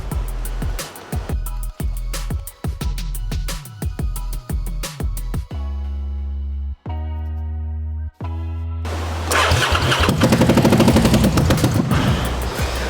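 A racing lawn mower engine fires up in sharp, rapid bursts, stumbles through a few gaps, then settles into a loud, steady, raspy run.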